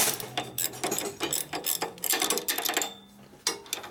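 Ratchet wrench clicking in quick, close bursts while tightening on a 1965 Harley-Davidson Panhead 74ci FLH motor during a rebuild, rapid repeated pawl clicks with brief pauses.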